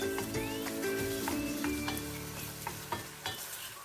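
Minced meat frying with peppers and onions in a pan for a Turkish eggplant dish, a loud close sizzle punctuated by repeated spatula scrapes and knocks.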